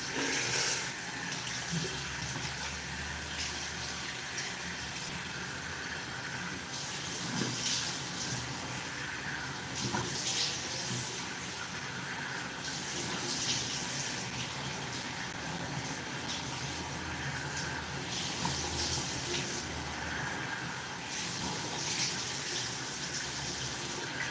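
Tap water running steadily into a sink while someone washes their face, a continuous soft gush with intermittent splashes and louder bursts as hands move through the stream.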